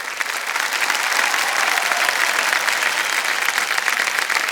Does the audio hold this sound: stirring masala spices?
no